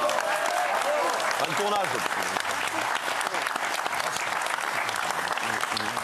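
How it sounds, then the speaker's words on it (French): Loud, sustained applause from a French TV talk-show studio audience fills the room steadily for several seconds, with a few voices speaking over the clapping. "Ah bon, on l'applaudit."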